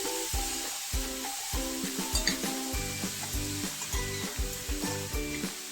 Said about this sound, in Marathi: मी किसलेला गाजर घालत आहे। आपल्याला याला छान भाजून घ्यायचं आहे।